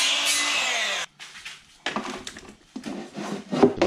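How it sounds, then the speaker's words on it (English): Small sample piece cut for a boat live well built from a cooler: a loud tool whine that sweeps downward, then several rough, close bursts of cutting or rasping separated by short gaps. "cutting a little sample piece real quick just to see how good it fits"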